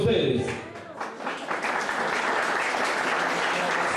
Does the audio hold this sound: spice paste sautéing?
no